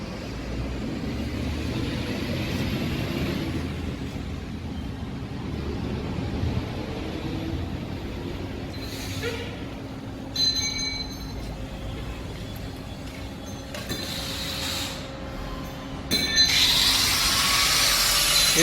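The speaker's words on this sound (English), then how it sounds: "This is the shaving machine. You see, we make some tests on the machine." A four-sided wooden plank shaving machine on a production line runs with a constant loud mechanical drone, punctuated by clanks and rattling bursts, with a sharp hiss near the end.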